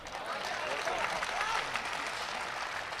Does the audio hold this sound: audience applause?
yes